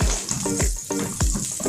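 Butter sizzles and crackles in a pan at the start of a mutton kheema curry, a loud close frying hiss broken by regular scraping stirs about every half second.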